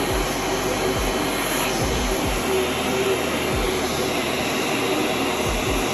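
A vacuum cleaner sucks dust from the fan area of an Acer Nitro 5 gaming laptop, giving a loud, steady, close roar that runs without a break the whole time.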